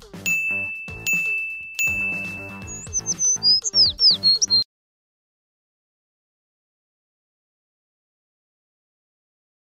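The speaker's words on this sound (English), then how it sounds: "When you hear three dings, a bird, and then an absolute beautiful throw from Tom Brady on Madden 20," Three bright dings in Madden 20, followed by a rapid run of chirpy bird-like tweets, crisp and close over a short musical backdrop, ending abruptly in silence.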